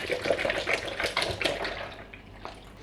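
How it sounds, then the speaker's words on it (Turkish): Half a litre of milk is poured into a container for fig ice cream and fig milk, giving a close, steady splashing gush that tapers off after a couple of seconds. "Sütümüzü de ekliyorum. Yarım litre süt ekliyorum"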